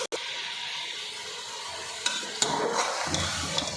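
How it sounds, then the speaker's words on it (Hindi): Mutton fries in a karahi pan, giving a loud, steady close-up sizzle with a few scraping stirs of the meat near the end. "ये देखें, गोश्त फ्राई हो रहा है।"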